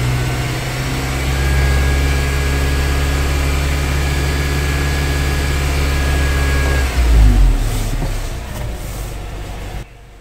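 Car engine revved with a throttle blip to about 2,000 RPM, heard with no talk: a steady loud engine drone holds for roughly seven seconds, then shifts and settles lower as the revs fall away.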